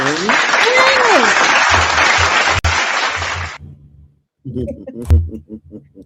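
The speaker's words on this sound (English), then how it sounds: "Let's just do the applause again" Canned applause sound effect plays loud and dense for about three and a half seconds, then cuts off abruptly, followed by a short quieter stretch and a voice speaking.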